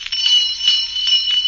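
A dinner bell rings with a bright, sustained metallic trill, its rapid repeated strikes steady and fairly close, sounding alone.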